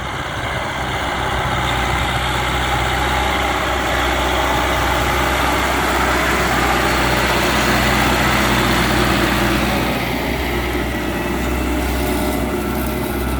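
A heavy tractor engine runs steadily and loudly throughout during spring ploughing, a deep continuous rumble with no pauses, close to the listener.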